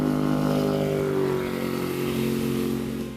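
A 2016 Chaparral 257 SSX bowrider runs with a through-hull exhaust, giving a steady, loud, droning engine rumble with a low throbbing tone that fades slightly toward the end.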